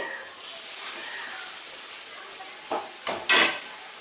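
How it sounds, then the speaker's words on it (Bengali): Soybean cutlets fry in hot refined oil over a medium flame, a soft continuous sizzle with a few sharper crackling bursts near the end. "এবারে এই তেলের মধ্যে তৈরি করে রাখা কাটলেটগুলোকে দিয়ে দিলাম"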